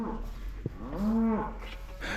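A cow in a maternity pen head gate with her newborn calf gives one clear, drawn-out moo close by, rising and falling over about half a second, with ranch background noise around it and no talking.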